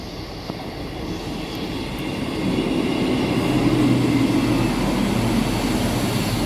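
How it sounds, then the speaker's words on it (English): A train pulls into a station in Exeter, its low rumble and rolling rail noise swelling steadily over several seconds into a sustained, moderately loud drone, with no voices over it. "Here's our train."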